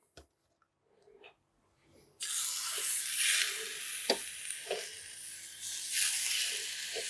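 Lamb rump dropped onto hot barbecue grill grates, bursting into a loud continuous sizzle after a couple of quiet clicks, with a few light taps during the searing.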